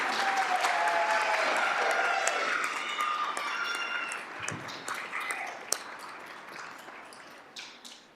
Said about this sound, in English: let's give Cole a round of applause